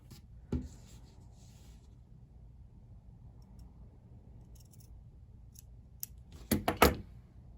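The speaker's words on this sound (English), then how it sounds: "I actually am gonna clip these edges here too." Scissors snip along the seam allowance edges of a sewn sleeve and gusset, giving a few sharp, close clicks: one early cut, then a quick cluster of snips near the end, with quiet room tone between.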